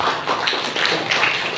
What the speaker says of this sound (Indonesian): Tepuk tangan untuk wali murid.